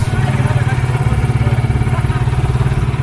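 A motorcycle tricycle ride in the Philippines, from Subic Town to Barrio Barretto, with a loud, close engine chugging in a rapid steady pulse throughout and a constant low rumble.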